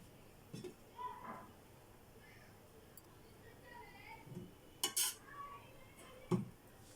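Knife cutting boiled eggs on a plate in a home kitchen, with a few scattered soft clinks and scrapes, including sharper taps near the end, while a person talks quietly over it.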